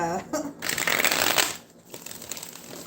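A thick deck of tarot cards is riffled and shuffled up close, a crisp flutter of card edges rising and falling.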